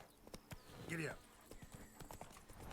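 Horse hooves clip-clopping at a steady trot on open ground in The Witcher 3, with a horse's whinny early on and a spoken line over the rhythmic steps.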